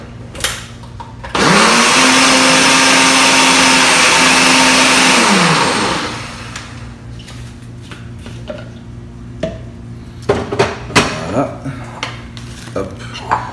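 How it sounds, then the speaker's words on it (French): Kitchen blender mixing protein recipe ingredients, a loud steady whir of about four seconds that winds down, followed by clinks of dishes and utensils. "Je vais mixer tout ça."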